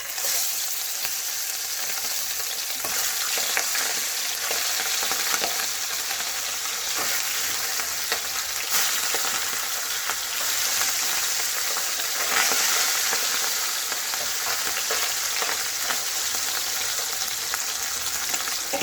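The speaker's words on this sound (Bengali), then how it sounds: "কড়াইতে সর্ষের তেল গরম বসিয়ে দিয়েছি, তেলটা গরম হয়ে গেছে, এবার মাছগুলো দিয়ে দেবো" Tangra fish fry in hot mustard oil in a kadai, giving a loud, continuous, close-up sizzle with crackling spatter and occasional stirring, with no talking.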